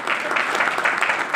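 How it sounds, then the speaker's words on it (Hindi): Audience at a team meeting clapping loudly on request, a short dense burst of steady applause with no pause. "जोरदार ताली दोस्तों, जोरदार"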